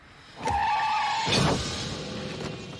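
A car's tires squeal in a long skid, then a heavy thud as it strikes a man standing in the road, in a scene from the film The Blob; the screech is loud and close, and the impact lands abruptly at its end.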